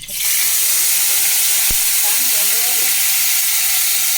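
Water poured into a hot pan while cooking patrado bursts into a loud, steady sizzle and hiss that fills the whole stretch, with a sharp crackle partway through and faint murmuring voices underneath.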